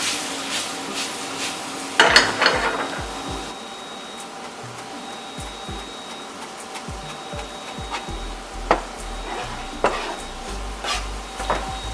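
Spiced red snapper cooks in a pan with a low, steady sizzle, broken by scraping stirs and clanks of a utensil against the pan, close by and with no talking.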